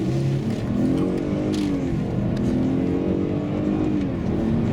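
Steady, loud hum of a Mercedes-Benz ML350 3.5 V6 engine running on LPG while driving, with a low droning tone that rises and falls slightly.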